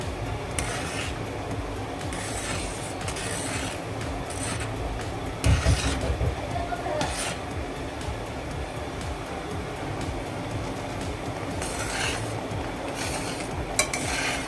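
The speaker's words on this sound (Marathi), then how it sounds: "हे सतत असं ढवळत राहायचं मिक्स करत राहायचं" Rice and jaggery kheer being stirred in a pot, a continuous soft scraping and swishing with occasional clinks of the spoon against the metal, steady and close throughout.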